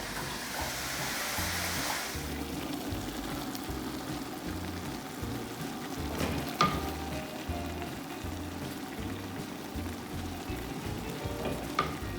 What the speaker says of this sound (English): we're going to just let them cook down slowly until they're nice and brown and caramelized